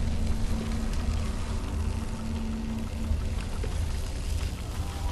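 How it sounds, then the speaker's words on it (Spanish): Water keeps pouring in the Dead Island 2 video game after a valve is cut, a steady, fairly quiet rushing splash that continues unbroken throughout. "Corté una válvula, pero ya veis que esto sigue cayendo agua."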